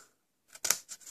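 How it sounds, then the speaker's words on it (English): Scissors snip through cardstock while a narrow note card is being trimmed and mitred, a few short crisp cuts close by after a moment of quiet. "I'm cutting that side so I can remove the score line when I mitre"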